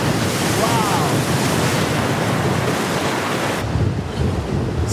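Ocean waves breaking on Ponta Negra beach in Natal, Brazil, a loud continuous roar of surf with heavy wind buffeting the microphone, surging and fading slightly near the end.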